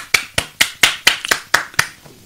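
About eight sharp, close hand claps in a loose, slightly uneven rhythm in a radio studio, each clap crisp and distinct with short gaps and no voices between them.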